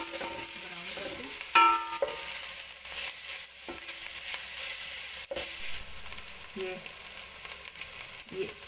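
Ingredients for beef pulao browning in a pan: a loud, steady sizzle of frying punctuated by scraping stirs and clinks of a spoon against the pot, with no talking.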